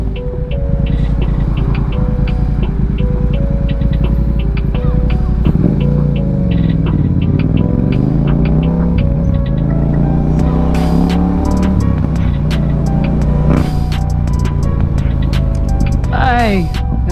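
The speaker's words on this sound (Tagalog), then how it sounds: "Ay, ito ang daanan pala sa London no guys. Traffic, maraming tao" Busy London street traffic passes with cars rolling by and engines rising and falling, loud and close, while a person talks over it and brief higher-pitched vehicle tones cut through near the end.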